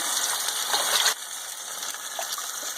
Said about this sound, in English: And I'm putting in some water right now.